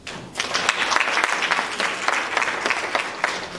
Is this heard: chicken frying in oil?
no